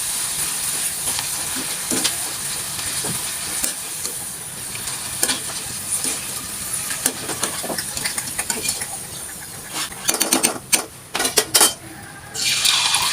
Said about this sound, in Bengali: আমি দ্বিতীয়গুলো এইভাবেই ভেজে মুচমুচে করে নেব